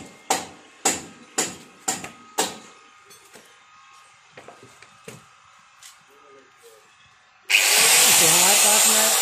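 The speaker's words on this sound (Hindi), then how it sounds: "ये ग्राइंडर है।" About ten sharp knocks and taps sound on a Maruti Suzuki Eeco door, followed by a grinder that starts abruptly and runs loud and continuous against the metal.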